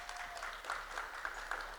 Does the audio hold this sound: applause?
yes